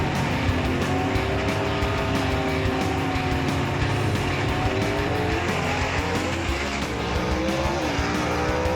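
Gasser drag race cars launching down the dragstrip at Knoxville Dragway, a loud, sustained engine roar that holds steady and close throughout the run.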